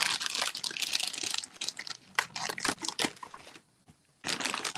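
A big plastic bag holding flattened trucker caps crinkles and rustles as it is handled and opened, with close, loud bursts of crackling, a short near-silent pause, then more crinkling.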